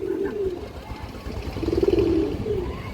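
Nazra Kaldom pigeons coo in low, throaty bursts, two rolling phrases close by against a soft background hum.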